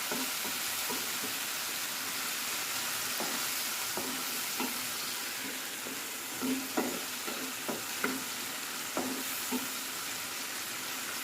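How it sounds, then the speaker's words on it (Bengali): Chicken frying in a pan with garlic, lemon juice and a little soy sauce, a continuous hiss of sizzling oil with scattered light clicks and scrapes as it is stirred, no one speaking. "চিকেনটাকে কিছুক্ষণ নেড়ে চেড়ে কষিয়ে নিব।"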